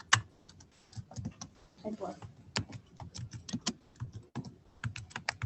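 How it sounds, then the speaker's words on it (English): Students type on computer keyboards in a classroom, producing rapid, uneven bursts of close key clicks with a brief voice in the background. "I'll give everybody a second to type that."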